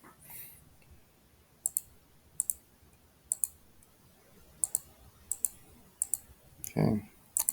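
Sparse computer keyboard key clicks, single taps and short pairs spread through the stretch as a function is typed in, fairly close and crisp over quiet background, with a brief low voice near the end.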